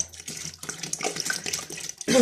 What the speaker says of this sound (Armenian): Հիմա հերթը հասավ ջուր լցնելուն, 20 միլիտր